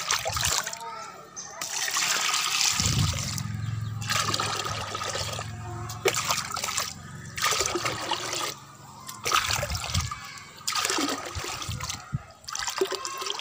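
Water poured into a container and mixed with calcium nitrate, a steady rushing pour with splashing and sloshing, broken by short pauses, while someone talks over it.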